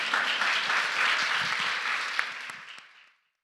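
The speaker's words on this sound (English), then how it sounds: "Give us a panel round of applause." Audience applause fills a summit livestream hall after a panel discussion, a dense steady wash of clapping that holds for about three seconds before fading quickly to silence.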